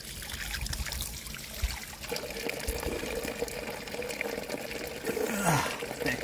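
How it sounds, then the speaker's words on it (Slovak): Highly mineralized spring water flows strongly at the Sobrance spa, a continuous close trickle and splash of running water with faint background activity. "Riadne silný prameň."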